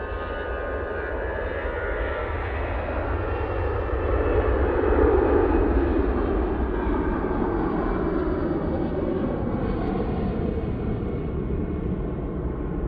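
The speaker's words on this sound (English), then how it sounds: "EasyJet off to Prague using their A320-200." An easyJet Airbus A320-200 jet takes off at Manchester Airport, its broad engine roar loud and steady throughout, swelling slightly in the middle and holding a dense rumble with no talk.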